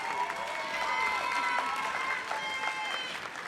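Steady audience applause at an awards ceremony, dense and sustained clapping from a crowd filling the room, with no one speaking over it.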